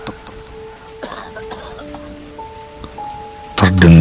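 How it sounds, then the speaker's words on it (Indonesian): A man coughs outside a room on a rainy night, with soft scattered coughs and throat sounds over a light hiss of rain, then a sudden loud, harsh cough burst at the end. "suara lelaki yang batuk-batuk"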